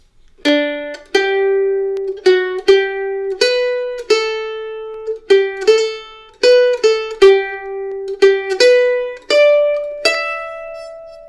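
Solo mandolin picks out the simple single-note melody of Auld Lang Syne, each note plucked cleanly and left to ring, in an even, unhurried rhythm with no talking.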